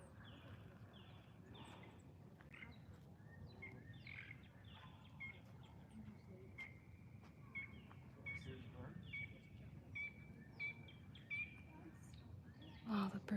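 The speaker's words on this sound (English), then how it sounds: "Oh, the birds are beautiful sounding." Several birds chirp and sing outdoors in Cleveland, Ohio during a solar eclipse, bright repeated tweets and short calls scattered throughout, moderately near, over a steady low murmur of background noise.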